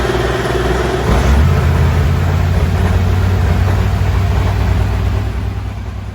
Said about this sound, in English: we finish up in tech and head back to get our engine warmed up for the afternoon